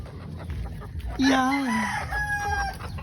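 A sweater yellow-legs gamefowl rooster crows once nearby, a drawn-out call followed by shorter clucking notes, over steady outdoor background noise.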